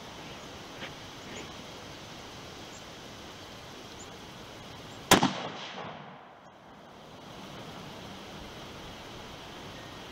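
A single sharp rifle shot fired at a deer outdoors, loud and close, with a brief rolling echo and decay after it over a steady background of wind or ambient noise.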